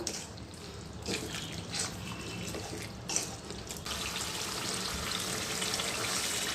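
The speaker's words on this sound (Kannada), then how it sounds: "ನೋಡಿ ಇಷ್ಟು ಫ್ರೈ ಮಾಡಿದ್ರೆ ಸಾಕು" A steady sizzling hiss of ivy gourd pickle paste frying in oil, with occasional scraping clinks of a utensil against the pan.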